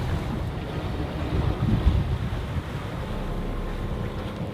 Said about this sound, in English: So we're just motor sailing, and we're motor sailing west